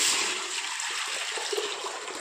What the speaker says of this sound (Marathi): ह्याच्यात आपल्याला पाणी ओतायचं आहे